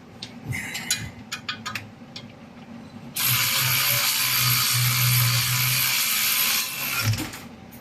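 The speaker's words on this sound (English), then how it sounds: "Let me get a ratchet. That'll make it easier." Ratchet wrench clicking as it turns a bolt on a transmission and harmonic balancer job, a few short bursts of clicks followed by a sustained loud rattling spin, then a final click, close up with no talking.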